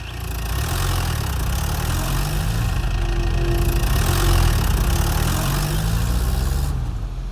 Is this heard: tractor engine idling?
yes